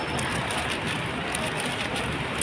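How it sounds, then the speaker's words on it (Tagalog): Steady rain pouring down on a Saturday outdoors, a dense continuous hiss that fills the scene without pause, fairly close and loud with no voices. "Umuulan pa rin."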